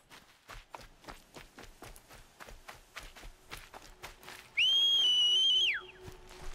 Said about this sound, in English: my game lagged while she's whistling